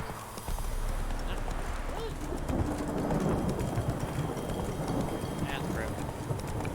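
Roach, a horse in the video game The Witcher 3, moves at a run: soft, rapid hoofbeats over an outdoor game ambience with birds chirping, fairly quiet and continuous with no voices.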